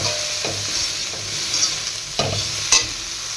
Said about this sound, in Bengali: আমি এখানে ফুলকপিটা একটু ভেজে নিচ্ছি।